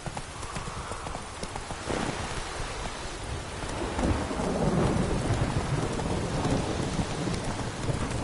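Hooves of Roach, Geralt's horse in The Witcher 3: Hearts of Stone, clip-clop steadily at a trot through a rainy thunderstorm, with rumbling thunder and rain filling the background throughout.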